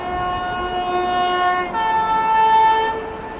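Train passing at speed through Watford Junction station on the West Coast Main Line, a loud sustained tonal whine with steady harmonics that shifts pitch halfway through, close and continuous with no voices.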